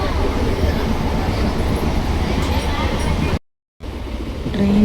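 Steady rumbling rattle of a moving train heard from inside a carriage, loud and continuous with a brief dropout near the end, no talking.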